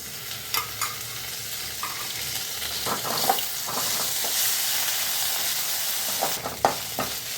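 Onion, ginger and garlic sautéing in a pan for a roadside pani puri kulambu, a steady close sizzle with scattered clinks and scrapes of a stirring spoon against the pan, no talk.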